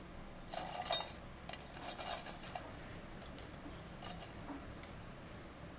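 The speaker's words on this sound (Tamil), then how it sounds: "இப்போ இதை நல்லா கிளறி விட்டுக்கலாம்." Brinji rice with cashews and fried bread crumbs being stirred in a pot, giving soft, intermittent spoon scrapes and light metallic clinks at low volume, with no talking.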